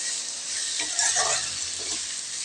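Boneless goat head meat fries in oil with a loud, continuous sizzle and a brief scraping stir in the middle, close up and without any voices.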